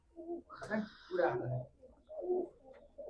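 Pigeons from a Punjab racing loft coo in soft, repeated throaty phrases close by, with a few brief calls overlapping.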